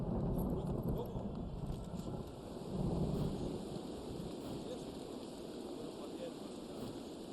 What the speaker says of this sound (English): Wait for the thunder.